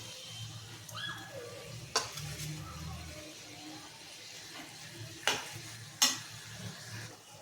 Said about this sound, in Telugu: ఆయిల్లో ఇలాగే మగ్గనివ్వాలండి